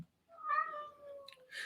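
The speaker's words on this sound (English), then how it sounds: "So I'm sorry, my cat is here." A house cat lets out one drawn-out meow nearby, rising and then falling, followed by faint rustling.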